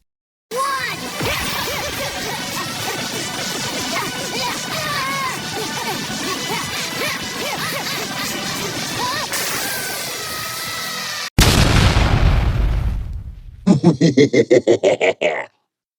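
Explosions and smashing impacts as Saiyan 3 and Golden Frieza clash in an animated fight, a dense continuous barrage of crashes and whooshes, then a sharp loud burst near the end followed by rapid pulsing blasts.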